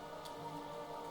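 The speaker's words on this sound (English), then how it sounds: "what are you doing out in this miserable downpour?" Steady rainfall in Hollow Knight, a soft, continuous downpour patter with a faint tonal ambience underneath, quiet and even across the whole short stretch, with no speech.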